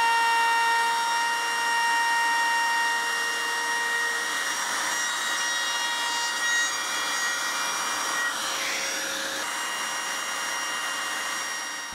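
A wood router with a profile bit cuts along a letter outline, giving a steady, loud, high whine with sharp tonal hum lines for the whole stretch. The pitch wavers slightly as the router moves through the wood, and no one speaks.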